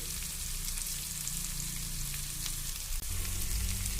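Onions fry in oil in a pan for a spicy onion chutney, giving a constant dense sizzle like light rain, close and even throughout, with a small knock near the end and no speech.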